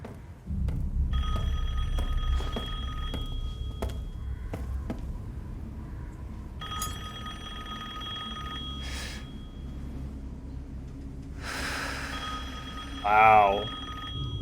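Old telephone ringing in a horror video game, a series of loud, repeated bell rings in bursts with short pauses, followed by other game sounds and a brief voice near the end.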